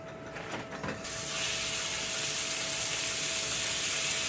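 Burger patties hit a hot skillet that earlier cooked sausage, bursting into a loud, steady broadband sizzle that starts abruptly after a few soft handling sounds and continues unbroken, close up.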